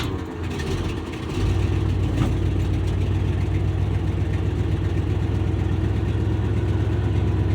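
A 1976 Ford F250 with a 390 engine starts from cold: a short cranking, then the engine catches and settles into a loud, steady, low rumbling idle close by.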